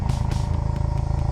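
Mazdaspeed3 exhaust idling steadily up close as the AC compressor cuts on, a deep, even rumble with faint periodic pulses and clatter.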